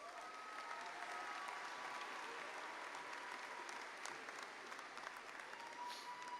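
A large crowd at an MBA graduation ceremony claps steadily for the graduates, a continuous even wash of applause heard from a distance in a big hall.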